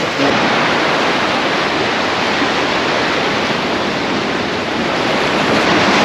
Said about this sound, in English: enjoy the sound of the waves for a bit